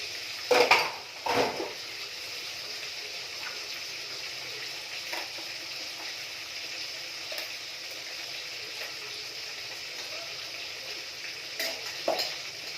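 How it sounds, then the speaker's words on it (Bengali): Fish fries in a pan on a home kitchen stove, giving a steady, soft sizzle throughout, with a few louder clinks of utensils against the pan near the start and end. No one speaks. "মাছগুলো ভাজছি"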